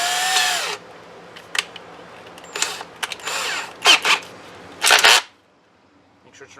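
A power drill with a 2.5 mm bit works at a plastic RC truck body for an Arrma Kraton, sounding in short whirring bursts of varying length separated by quiet handling noises, close and fairly loud, before falling silent.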